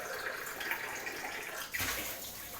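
Steady running tap water pours into a sink as a milk glass is washed, a continuous close hiss broken by a brief splash or knock near the end.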